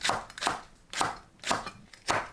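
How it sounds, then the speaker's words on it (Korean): Knife slicing green onions diagonally on a cutting board, five evenly spaced crisp chops close up with short pauses between them. "파를 어슷 썰어줍니다."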